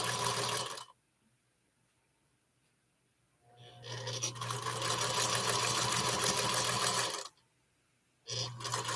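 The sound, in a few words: sewing machine chain sewing quilt block pieces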